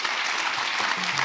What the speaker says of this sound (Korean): 열띤 토론 펼쳐주신 네 분께 다시 한번 큰 박수 부탁드립니다